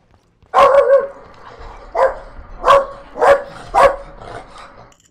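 A pet dog barks in a room while a shooter game about raiding a cocaine lab on a converted fishing boat plays in the background. There are about five loud, close barks, roughly one every half to one second, with faint game sound beneath.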